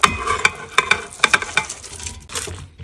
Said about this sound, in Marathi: आता त्याच्यामध्ये ही शिजवलेली बाजरी घालते.